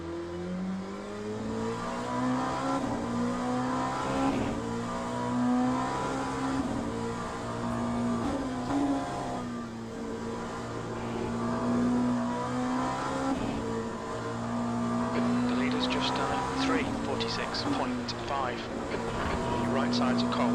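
A race car on an outlap in Le Mans Ultimate drones steadily and loudly, its engine pitch rising and falling through gear changes for the whole stretch, while a voice talks underneath.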